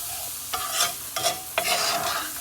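The Trinity vegetables are stirred into a hot roux for an Irish potato stew. Three scraping stirs come close and clear over a steady sizzle, with no talk.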